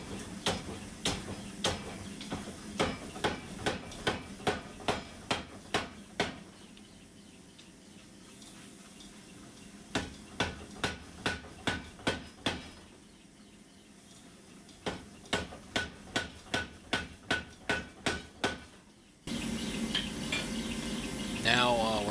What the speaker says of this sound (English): Now we're starting some of the hand forging.